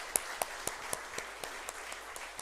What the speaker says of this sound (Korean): 여러분 한번 이 시간은 한번 일어섰는데 한번 힘차게 박수 한번 해주시고